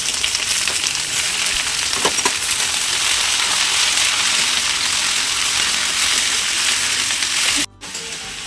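Chowmein noodles fry in a kadhai with a steady, loud, hissing sizzle that holds throughout, punctuated by a few faint clinks, then briefly cuts out near the end.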